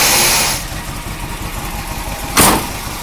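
Engine of a 1976 Chevrolet Corvette C3 running with a newly fitted power steering pump, a steady mid-pitched idle close by with a brief rising rev burst near the end.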